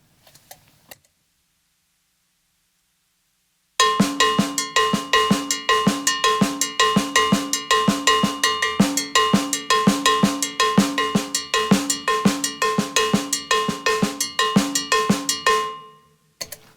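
A cowbell plays a Mozambique pattern, a fast, steady, syncopated stream of bright metallic hits with accents and ghosted notes, loud and close for about twelve seconds after a silent pause.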